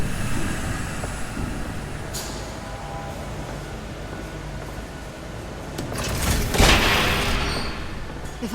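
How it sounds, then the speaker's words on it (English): Train approaching in the video game Telltale Batman, a low continuous rumble that builds and swells toward a louder whooshing rush near the end, with no voices. "There's a train coming."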